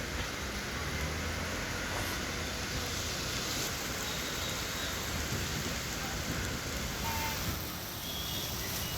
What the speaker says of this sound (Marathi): पावसाला जोर नसला तरी रिमझिम पाऊस सतत सुरू आहे